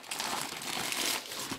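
The packaging of a Umidigi S phone crinkles and rustles during an unboxing, a close, continuous papery crackle lasting under two seconds.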